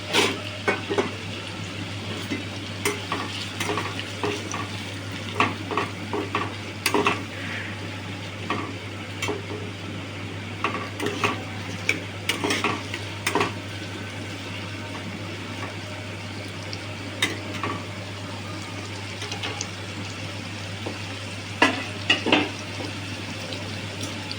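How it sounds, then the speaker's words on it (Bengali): Four large onions, thinly sliced, fry in a pot while being stirred for chicken khichuri: a steady close sizzle runs throughout, broken by frequent scraping and clicking stir strokes over a low constant hum, with no talking. "চারটে বড় পেঁয়াজ কেটে রেখেছিলাম সবটাই আমি দিয়ে দেবো একদম পাতলা পাতলা করে কেটে নিয়েছি যাতে তাড়াতাড়ি ভাজাটা হয়ে যায়"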